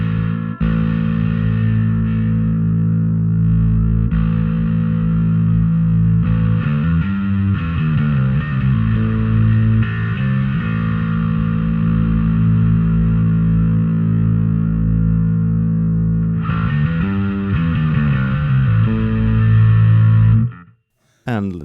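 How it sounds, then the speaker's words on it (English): Bass guitar played through a Darkglass Microtubes Infinity distortion pedal, a loud, continuous, heavily distorted tone with held notes and a brief break near the end. "So now I'm on slot B still, and gonna change out the distortion type."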